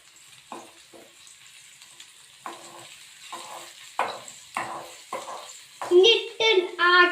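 Chicken and masala are stirred in a pan for a roasted-coconut chicken curry: scraping spoon strokes over a soft sizzle, growing louder and busier toward the end, with a faint voice in the background.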